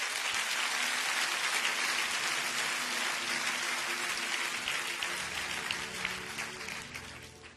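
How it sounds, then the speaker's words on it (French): A church congregation claps loudly and continuously in worship, a dense wall of hands that stays strong before gradually thinning out, with faint voices and some sustained low tones underneath. "Acclamons le Seigneur."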